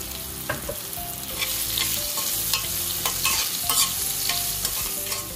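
Raw mango pieces frying and being stirred in a hot tempering of mustard seeds, cumin, asafoetida and turmeric for a Goan raw mango curry, a steady close sizzle with repeated scraping stirs throughout, no voices.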